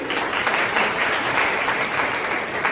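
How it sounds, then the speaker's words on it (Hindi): A crowd applauds steadily for a few seconds, a dense wash of clapping at even volume with no voices standing out. "पहले तो उसके लिए बहुत जोरदार तालियां होनी चाहिए"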